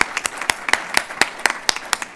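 A small audience at a school fundraising campaign kickoff claps, sharp distinct hand claps in a quick uneven rhythm, close and fairly loud, with no one speaking over them.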